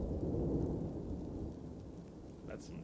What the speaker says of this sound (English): That's intense rain sound effects.